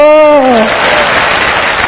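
An audience claps at a religious gathering, a dense patter of applause that takes over after a brief sung or spoken voice fades out in the opening half second, then continues steadily to the end.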